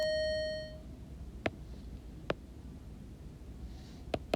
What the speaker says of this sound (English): Sorry about the bell again.